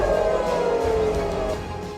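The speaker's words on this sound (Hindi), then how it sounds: "मध्य इजराइल में कल पूरी रात मिसाइल हमले के सायरन बजते रहे।" A loud missile attack air raid siren in central Israel wails steadily at close range, holding a sustained droning tone that eases slightly toward the end.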